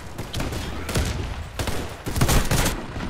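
Repeated sniper rifle gunfire in the online shooter Warface, several loud cracking shots with echoing tails spread across a few seconds of busy game combat, no talking.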